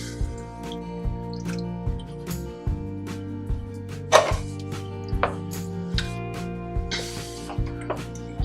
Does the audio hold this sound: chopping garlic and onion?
yes